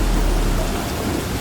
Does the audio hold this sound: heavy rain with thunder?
yes